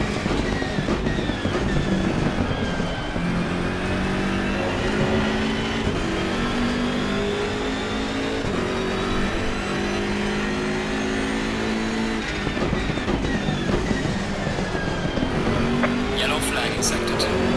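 BMW M6 GT3 race car engine at Mount Panorama in Assetto Corsa Competizione, a loud sustained engine drone rising and falling through the gears, with a voice speaking over it at times.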